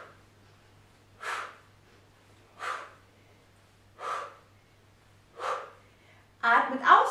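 Heavy exhalations during an abdominal workout: four evenly spaced breaths about every 1.4 seconds, close and clear over quiet low hum, then a louder, rougher burst of breathing at the end.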